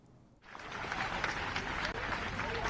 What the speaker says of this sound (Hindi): एक बार ताली बजा के अपने प्रधानमंत्री जी का भी स्वागत करें